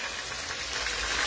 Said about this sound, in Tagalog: Tingnan nyo yung tilamsik ng mantika.